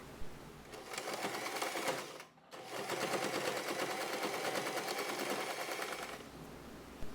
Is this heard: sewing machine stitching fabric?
yes